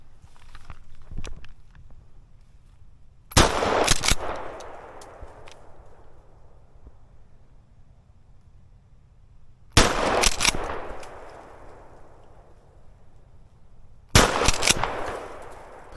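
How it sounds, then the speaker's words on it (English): Three loud shotgun blasts fired at a squirrel on a late-winter hunt outdoors, each a sharp crack with a trailing echo, separated by pauses of several seconds. "So I'm going to try just to take my shot to see if I can hit it."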